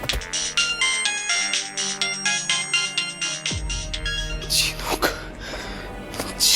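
A phone ringtone plays loudly in a repeating melodic pattern for several seconds, then shifts to a different tune with some background noise.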